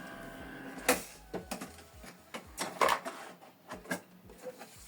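An HP Deskjet 4310 printer works through a copy job, its mechanism clicking, thumping and whirring in uneven bursts with sharp knocks over a steady low motor hum.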